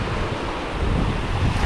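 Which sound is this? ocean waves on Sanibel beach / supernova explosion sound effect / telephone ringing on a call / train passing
ocean waves on Sanibel beach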